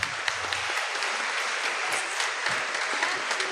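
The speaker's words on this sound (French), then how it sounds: "Je vous demande de les applaudir chaudement." A church congregation at a Sunday Mass applauding warmly: dense, sustained clapping from many hands filling the space, steady and even throughout.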